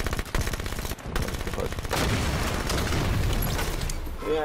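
A submachine gun fires rapid bursts in Halo 5: Guardians during a chaotic Super Fiesta match, loud clattering rounds followed by a dense barrage of shots and booms.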